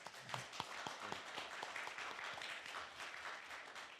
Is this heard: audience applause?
yes